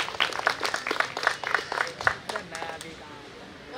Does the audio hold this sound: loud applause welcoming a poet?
yes